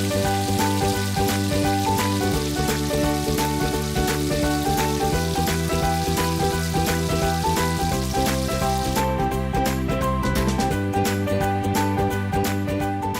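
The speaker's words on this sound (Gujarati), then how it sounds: "ગોલ્ડન બ્રાઉન થાય ત્યાં સુધી તળી લેવી." Samosa puri deep-frying in hot oil until golden brown gives a steady, close crackling sizzle throughout, layered over a tonal musical backdrop.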